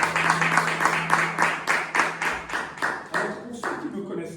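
A congregation at an evangelistic church service claps in a steady, rhythmic beat, many hands together at moderate volume, with the pattern loosening near the end.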